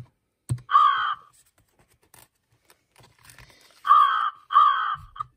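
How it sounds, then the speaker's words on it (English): An American crow caws three times, loud and close: one harsh caw, a pause, then two quick caws in succession. "The American crow."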